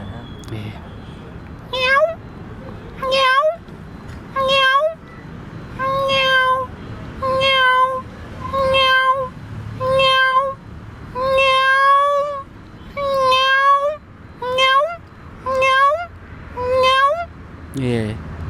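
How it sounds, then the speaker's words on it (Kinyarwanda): A cat meows again and again in a steady series of loud, drawn-out, close calls with short pauses between them. "Iyo ni ipusi iba yabuze umwana cyangwa umwana yabuze nyina."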